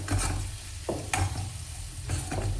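Vegetable bhaji frying in a pan with chili powder being added, a close continuous sizzle with several scraping stir strokes of a spoon against the pan, no voices.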